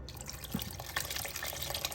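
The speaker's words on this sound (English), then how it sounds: "So just add more water." Water poured into a pot for beef stock, a steady close splashing and trickling with no talk.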